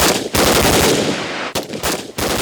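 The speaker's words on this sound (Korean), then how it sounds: "적을 만날 경우 빠르게 대응할 수 있도록 기동사격 훈련을 합니다." Military reconnaissance troops firing machine guns during mobile shooting drills, dense sustained bursts of automatic fire, loud and close, with a brief pause between volleys.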